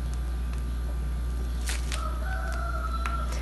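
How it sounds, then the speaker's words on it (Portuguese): A rooster crows outdoors during home cake decorating, its drawn-out, tonal call rising mid-clip and holding for over a second over a steady background hum, with no talking. "E o seu galo dando uma boa bom dia"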